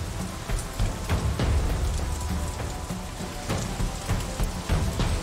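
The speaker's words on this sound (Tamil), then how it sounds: "சார் மழை பெய்யுது" Steady rain falls and patters on surfaces, with scattered sharper drops over a constant hiss, moderately loud and without talk.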